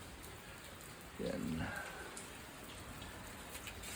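Steady rain patters down over a small veranda garden of potted plants, a dense even hiss throughout, with a brief voice speaking partway through.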